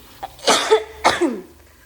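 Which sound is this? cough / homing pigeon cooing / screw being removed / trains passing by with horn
cough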